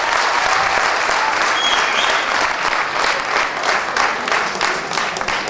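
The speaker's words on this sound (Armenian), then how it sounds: "և ծափահարեք մեր քաղաքապետի հաղորդակցությունը" A crowd claps for the mayor at a New Year celebration, a sustained, loud wave of applause that stays even and thick from start to finish, with only faint murmurs beneath.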